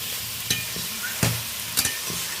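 Steady sizzle of prawns and okra frying in spice paste in a pan, with a few sharp scrapes and clacks of stirring scattered throughout.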